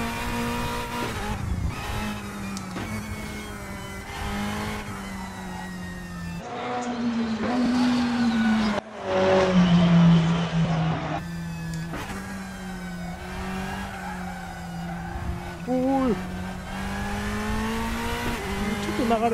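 A Porsche GT3 RS in a free racing simulator on a mountain pass, its engine revving and holding high, loud and steady, with brief dips between gear shifts and a faint tire squeal.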